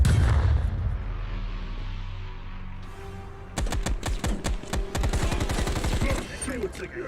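Rapid bursts of gunfire in Black Ops Cold War, loud clustered shots and automatic fire after a quieter stretch, with a voice talking in between.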